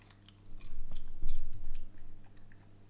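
Chewing on a bite of fatty breakfast food during a high-protein, moderate-fat meal, a close, soft run of moist mastication sounds with a few crunchier bites in the middle, no talking.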